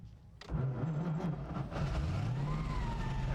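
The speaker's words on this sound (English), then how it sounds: "I love the sound of a Bugatti's engine." A vintage Bugatti Aerolithe car engine cranks and fires up, settling into a deep, throaty rumble that rises in pitch as it revs, loud and close.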